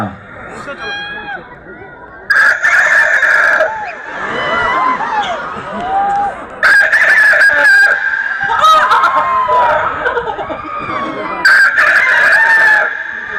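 A person imitates a rooster's crow several times, loud and close, with shrill drawn-out calls rising and falling amid background chatter.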